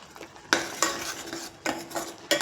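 A spoon scrapes and clanks around a pot as masala is mixed into paya curry, four sharp knocking strokes with soft scraping between them, close and clear.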